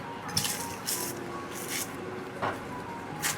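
Mango pieces tossed with sugar, vinegar and salt in a bowl, giving soft wet squishing and a few light clinks at intervals, close and quiet with no talking.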